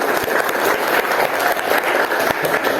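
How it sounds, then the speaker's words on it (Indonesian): A classroom of students claps together in a lively, close burst of applause, with individual sharp claps standing out from the dense patter for a few seconds. "tepuk tangan buat kalian dulu semuanya"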